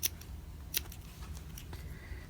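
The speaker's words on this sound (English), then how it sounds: "if I'm just using scissors, I just cut 1/8 of an inch, 1/4 of an inch" Scissors snip through a fabric seam allowance around a curve, giving a few quiet, close, crisp cuts spaced irregularly over a soft background.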